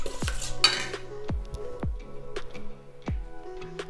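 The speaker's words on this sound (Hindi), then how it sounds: "अब इनको पहले मैं अच्छी तरह मिक्स करूंगी।" A spoon stirs thick chicken marinade for shish taouk in a bowl, with a series of sharp clinks against the bowl at a steady, uneven rhythm, close and distinct with no talking.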